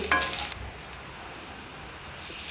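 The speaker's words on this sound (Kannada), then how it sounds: "ಸಾಸಿವೆ ಸಿಡಿದ ನಂತರ ಜೀರಿಗೆ ಹಾಗೆ ಜಜ್ಜಿದ ಬೆಳ್ಳುಳ್ಳಿ ಸ್ವಲ್ಪ ಫ್ರೈ ಆಗಲಿ." Cumin and crushed garlic hit hot coconut oil just after mustard seeds splutter, giving a sharp burst of sizzling at the start that settles into a faint, steady frying hiss.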